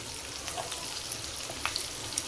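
Capsicum (bell pepper) hissing as it drops into a hot frying pan for restaurant-style noodles, a steady close broadband sizzle with faint crackles and small pops, no voices.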